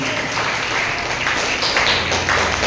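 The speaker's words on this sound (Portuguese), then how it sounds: "Você pode aplaudir o Senhor?" A church congregation applauds in a quick burst of close, continuous clapping, loud and busy throughout its brief length.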